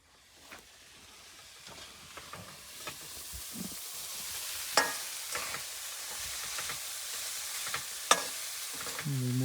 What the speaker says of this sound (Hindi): और ये भाई हमारे पोए का तड़का तैयार हो रहा है।